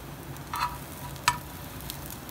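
French toast frying in a pan over a low stove flame, a soft, steady sizzle with a couple of brief clinks from a spoon turning the bread.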